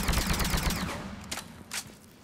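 Indra sniper rifle shots in Mass Effect 3 at target practice with an enhanced scope, a rapid run of sharp game gunfire early on, then a couple of separate bursts after it fades.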